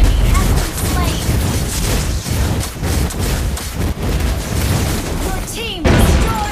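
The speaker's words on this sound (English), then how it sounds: "Your team destroyed a turret." A turret is destroyed in the video game Mobile Legends, with booming explosion effects and dense battle sounds throughout, and an announcer-style voice heard over the game audio.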